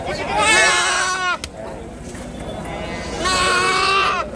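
Young kid goats bleat at a livestock market in Nimmiyampattu, Tirupattur district, with two loud, close, wavering calls separated by a brief pause over busy market background noise.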